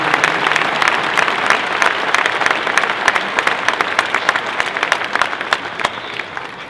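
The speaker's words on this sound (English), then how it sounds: "Let's put our hands together for the young people driving these champions out here" Large crowd at a state fair 4-H barrow show applauds young exhibitors driving champion hogs in the show ring, dense continuous clapping, loud and close, with little talk.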